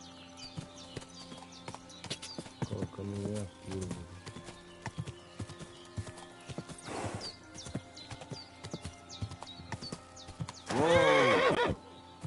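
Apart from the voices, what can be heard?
horse galloping and neighing in video game Kingdom Come 2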